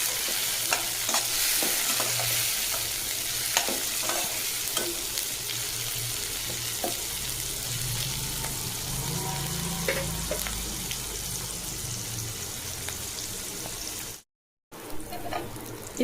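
Chopped tomatoes sautéing in a pan for Tamil egg curry, a steady close frying sizzle with scattered clicks and stirring scrapes of a spoon, continuing without pause.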